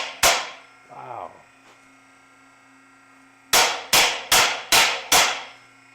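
A single sharp metallic strike on a metal rail tube being fabricated, a brief scraping rattle, then a pause before five evenly spaced hammer blows ring out on metal.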